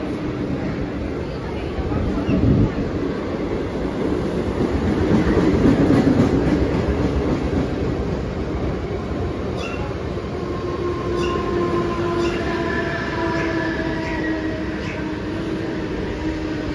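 A slow 12-car Mumbai local train on the Harbour line runs through Kings Circle station, a loud, sustained rail rumble with rhythmic clatter and rising wheel squeal, under a public-address announcement.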